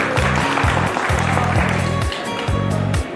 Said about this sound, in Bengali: করতালি দিয়ে তাদেরকে অভিনন্দন জানাই।